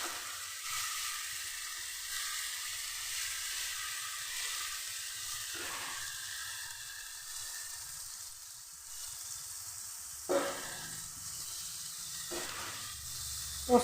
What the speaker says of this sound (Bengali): পোস্তটা আমি আগে একটু ভেজে নেব।